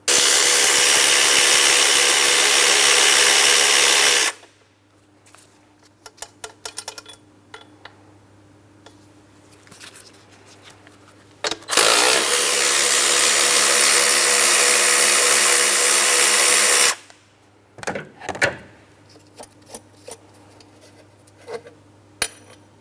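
A power tool loosens and removes valve cover mounting bolts on a 2003-2007 Cadillac CTS 3.6L V6 in two long, loud whirring runs, separated by quieter clicks and handling of parts.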